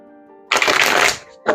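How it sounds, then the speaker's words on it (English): Tarot cards are shuffled in a quick riffle, a dense papery burst lasting about half a second, then a second riffle begins, close and loud after a soft tonal background. "let's shuffle these cards up"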